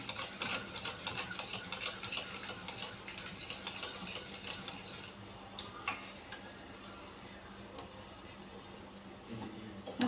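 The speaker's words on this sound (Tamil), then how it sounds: "தேங்காய் பால் சேர்த்து நல்லா மிக்ஸ் பண்ணும்" A spoon repeatedly stirs an egg and coconut milk mixture for vattalappam in a bowl, making quick, rhythmic ticking clinks that are brisk at first and then ease off. The sound is close but fairly quiet.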